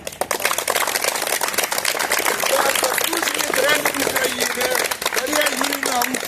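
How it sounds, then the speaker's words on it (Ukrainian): Crowd applause for young athletes at a sports-school awards ceremony in Vinnytsia, a dense, steady wash of many hands clapping that runs the whole time, with a voice speaking over it. "Ваші оплески"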